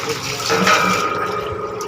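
Water rushes steadily out through a pipe as an animal drinking pool at a cow shelter is drained through a valve, a continuous close gushing wash with no voices.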